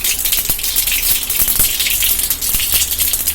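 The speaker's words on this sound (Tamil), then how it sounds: "கடுகு வெடிக்கட்டும்." Mustard seeds crackle and pop in hot oil in a pan, sharp scattered snaps over a continuous sizzling hiss, loud and close.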